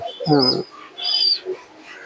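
A pigeon of a long-flying breed gives a short, low, throaty coo followed by thinner, higher calls, faint and close against a quiet background.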